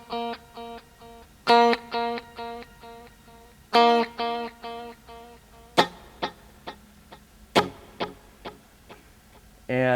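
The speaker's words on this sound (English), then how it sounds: "dotted 8th note sounds like this." Electric guitar through a TC 2290 delay set to dotted eighth notes at about 100 BPM, for U2's "I Still Haven't Found What I'm Looking For": picked notes repeat in quick rhythmic echoes, playing alone at close range, with muted clicky strums later.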